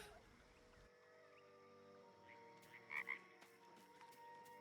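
A frog croaks a couple of times in quick succession within the video game Baldur's Gate 3, set against a quiet humming ambient bed with faint watery textures.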